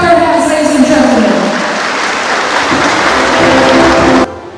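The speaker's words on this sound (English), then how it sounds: "Please clap your hands, ladies and gentlemen" Audience at an LGU Nights event in Baao, Camarines Sur applauding to welcome a DSWD undersecretary as guest speaker; loud, sustained clapping with crowd noise, cutting off abruptly near the end.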